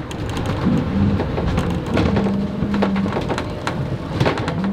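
A freewheeling propeller under a Lagoon 500 catamaran makes a continuous close rushing, churning noise with irregular knocks and taps from the hull underside, steady throughout with a low intermittent hum.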